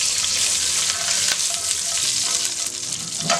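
Green chillies hit tempering oil with mustard seeds and curry leaves, a loud near sizzle with crackling spits and stirring scrapes, continuous and without talk.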